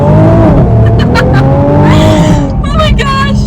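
A Nissan GT-R accelerates hard to 60 mph with a loud, close engine rising in pitch through shifts, while people inside talk and exclaim over it.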